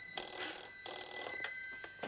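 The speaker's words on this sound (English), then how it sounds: "Oh, it's telephone." An early-1990s telephone bell rings in repeated bursts indoors, fairly loud and close, with brief gaps between rings and no talking.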